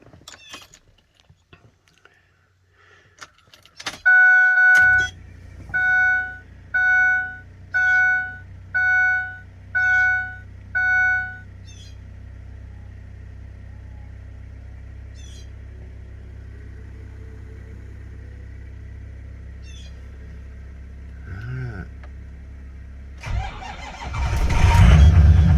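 Ford Powerstroke 6.0 diesel engine cold start in winter: a keychain jingle, then a series of evenly spaced warning chimes, after which the engine cranks and catches into a deep, steady idle rumble close by, ending with a louder burst.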